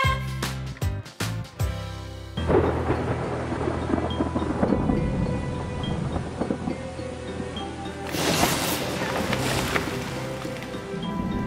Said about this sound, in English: I have never seen a storm like this before.